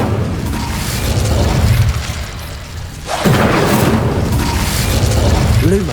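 The Incendio fire spell from Hogwarts Legacy ignites with a whooshing burst of flame over constant game ambience, then keeps roaring, and a rising magical chime sounds near the end.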